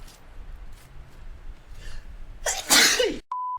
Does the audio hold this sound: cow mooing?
no